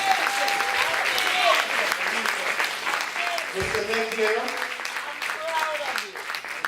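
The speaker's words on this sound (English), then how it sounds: "So another round of applause." A room full of guests at a scholarship brunch gives a round of applause. The clapping is loud and sustained, and a voice speaks over it through a microphone.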